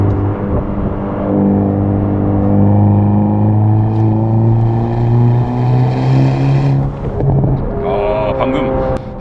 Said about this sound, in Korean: 지금 RPM 4000에서 가속 페달 떼니까요. 팝콘이 살짝 뻥 하고 터지네요.